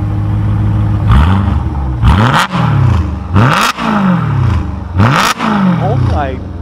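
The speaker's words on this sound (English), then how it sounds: "I never heard my exhaust from outside my car" A 2013 BMW M3 E92 engine revs hard several times in bursts, exhaust roaring up and dropping back between pulls, heard close from outside the car.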